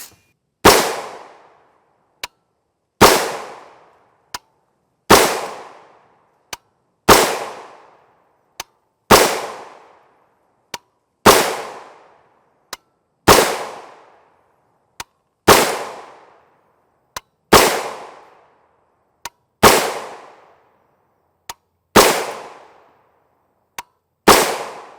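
A 300 Blackout rifle with a 16-inch PSA barrel fires about twelve single gunshots at a steady pace roughly two seconds apart. Each shot is a sharp, loud crack with a short ringing tail, and a small metallic click falls between shots.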